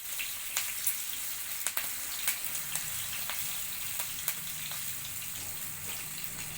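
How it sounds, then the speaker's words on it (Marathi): Green chillies frying in a hot pan for coconut rice, giving a steady soft sizzle with occasional sharp pops and crackles spread through, no voices. "आपल्या या मिरच्या थोड्याशा आपल्याला चांगल्या परतून द्यायच्या आहेत"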